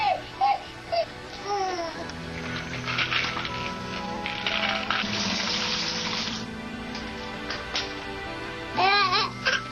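A tap runs into a bucket being filled with mop water for scrubbing a kitchen floor, a loud steady gush with higher burbling bursts at the start and end.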